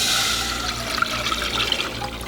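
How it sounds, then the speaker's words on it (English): Thickened gravy of cornstarch and defatted pan juices pouring into a saucepan, a steady liquid splash and trickle running throughout with a soft thump at the end. "And then we're going to pour this into our saucepan"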